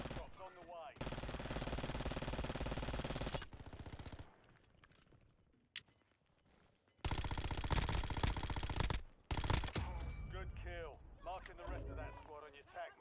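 Video game gunfire comes as long sustained machine-gun bursts that start and stop abruptly, loud and near, with someone talking in the gaps.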